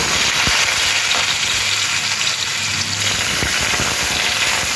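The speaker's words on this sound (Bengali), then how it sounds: "তেলটা গরম হয়ে গেছে তারপরে কেটে রাখা যে আলুগুলো দিয়ে দেব" Cut potatoes frying in hot white oil with a dried red chilli, a steady loud sizzle with bursts of crackle throughout, no talking.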